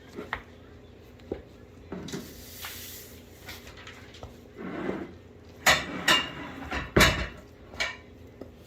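Vegan chicken nugget mixture stirred from the bottom of a bowl, giving intermittent scraping and clinking utensil sounds, close and fairly quiet, with a few louder knocks toward the end.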